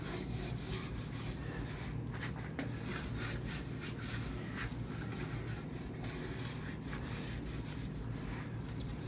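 Seasoning rub worked by hand into the skin of a whole 40-pound pig, a continuous close-up scratchy rubbing and rasping texture with no talking.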